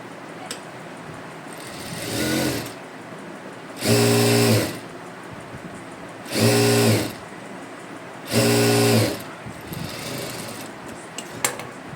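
A sewing machine stitches blouse fabric with canvas attached, running in four short bursts of steady motor whir separated by quieter pauses.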